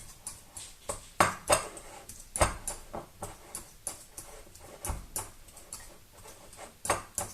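A fork mashes forshmak ingredients in a bowl, Odesa style, with a steady run of short clicking, scraping taps against the dish, close up and fairly quiet, with no talking.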